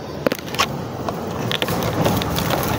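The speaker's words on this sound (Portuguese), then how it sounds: "Desculpa o barulho de carro, moto" Car and motorbike traffic passing on a road in rural Maranhão, Brazil, heard as a steady nearby rushing drone that swells slightly toward the end, with a few faint clicks and scrapes.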